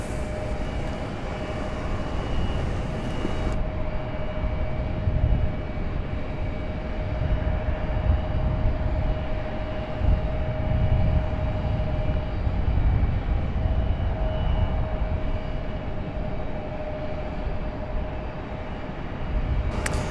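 An Airbus A220 airliner passing at Raleigh-Durham International Airport, a loud, steady engine roar with a faint whine that holds for about twenty seconds, heard outdoors with no talk.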